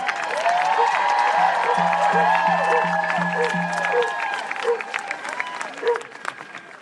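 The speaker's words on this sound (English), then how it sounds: "I want to clap for our lovely and humble sign language interpreter who's been here the whole time as well." An outdoor protest crowd claps and cheers for a sign language interpreter, with steady applause and voices rising and falling nearby.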